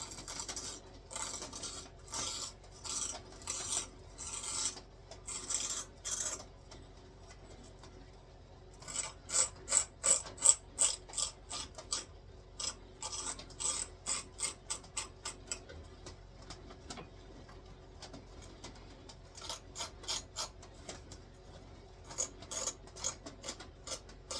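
Serrations on a knife blade are filed down at a workbench, with rapid rasping file strokes in bursts separated by short pauses, close and fairly quiet.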